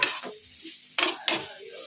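A sweet banana mixture being stirred in a pot, with a few short scraping strokes and a faint sizzle, close and fairly quiet.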